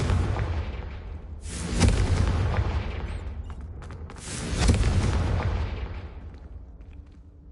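Two heavy fire-spell blasts in a Hogwarts wizarding video game, each a loud booming burst at about 1.8 and 4.7 seconds, followed by a crackling, rumbling decay over a continuous low roar.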